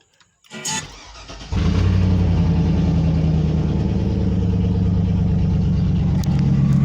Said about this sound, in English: Let's see how the motor running.